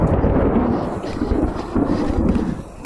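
Thunder rumbles through a storm outdoors on a trail ride, a loud, rolling low roar swelling and easing over a few seconds and mixed with wind buffeting, no voices.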